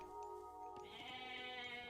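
A goat bleats once in the Age of Mythology video game, a clear wavering call that rises partway through over a soft, steady game background.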